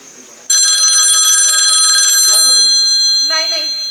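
A telephone bell rings loudly and close during a Marathi stage play, a sustained trilling ring that starts abruptly, holds for about two seconds, then fades as voices begin to speak.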